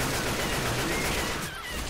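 Gunfire in the Left 4 Dead 2 zombie shooter during a rainy level, a dense continuous rattle of shots with no clear gaps, loud and filling the whole stretch.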